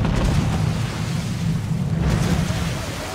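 Ship cannon fire during a naval battle in Assassin's Creed IV Black Flag, a sustained booming low rumble of heavy gunfire lasting several seconds, loud and continuous with no clear separation between shots.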